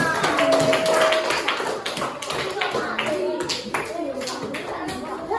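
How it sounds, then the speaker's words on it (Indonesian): Children clap together for a classmates' group during a classroom lesson, a burst of quick claps under a teacher's talk and kids' voices. "Tepuk tangan dulu untuk kelompok Talita."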